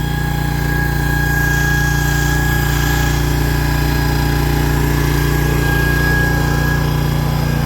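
A Chinese AGT mini excavator runs steadily and close by, its engine droning under a thin, sustained high whine from hydraulics with cold fluid.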